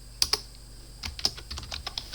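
Typing on a computer keyboard: a close, irregular run of crisp key clicks with a few sharper taps, heard alone.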